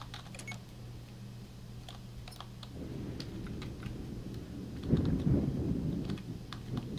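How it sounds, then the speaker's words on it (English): Steady rain with low rumbling thunder, a broad wash that swells louder partway through, with scattered sharp ticks on top and no talking. "No, that's rain."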